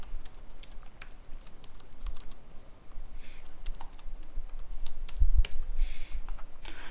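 Someone types on a computer keyboard into a software search bar, producing a quiet series of irregular key clicks and taps at close range.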